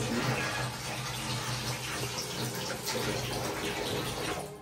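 Water poured out of a container holding pebbles, a continuous close splashing gush that keeps up steadily for a few seconds before tapering off.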